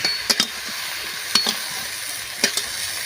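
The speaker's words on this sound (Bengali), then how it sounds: "শুধু প্লেন মাংসটাকে ভেজে নেবো ভালো করে" Chicken meat frying over a wood fire, a steady close sizzle broken by several sharp clinks and scrapes as the pieces are stirred in the pan.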